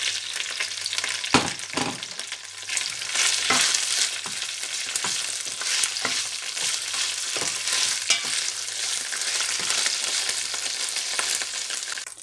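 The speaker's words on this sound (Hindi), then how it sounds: "यहाँ हम डालेंगे ऑलिव ऑयल, हल्का सा इनको फ्राई कर लेंगे" Peppers frying in olive oil, crackling and sizzling steadily throughout, with scattered sharp pops and the scrape of stirring, loud and close with no talking.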